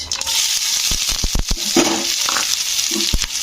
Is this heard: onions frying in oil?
yes